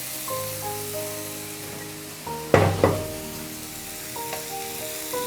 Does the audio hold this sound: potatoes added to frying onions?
yes